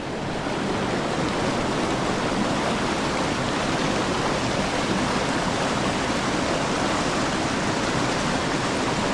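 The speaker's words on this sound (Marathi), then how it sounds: "पाण्याला फ्लो जास्तच आहे" Strongly flowing water where a crab trap is placed rushes in a loud, steady broadband roar, constant throughout with no voices.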